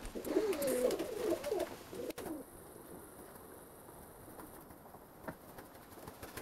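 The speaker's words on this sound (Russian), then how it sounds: "Вот там голубей побольше." Pigeons at a pigeon keeper's loft give a low, murmuring coo in the opening two seconds, then fade into quiet ambient rustle and faint patter.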